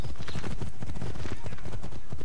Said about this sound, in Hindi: मेरे को बस घोड़े की आवाज सुनाई दिए।